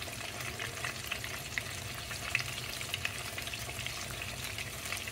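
Super jumbo coconut shrimp fry in hot oil while being flipped, a steady crackling sizzle with small pops and a few faint clicks, fairly quiet and uninterrupted by speech.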